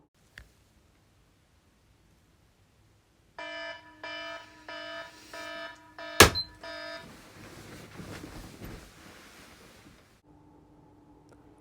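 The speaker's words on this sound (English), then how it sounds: "Set an alarm and wake up before noon." An alarm clock rings in several quick, evenly spaced bursts of bright electronic beeping. A sharp crash and a stretch of noisy clatter follow, then a faint steady tone.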